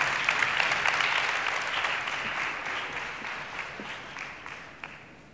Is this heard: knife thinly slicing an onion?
no